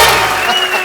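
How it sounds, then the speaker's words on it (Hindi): Studio audience applause for Sunny and Bobby Deol on a comedy talk show: a dense, loud wash of clapping that carries through the whole short moment without a break. "एक बार सनी बाजी और बॉबी बाजी के लिए जोरदार तालियां हो जाए।"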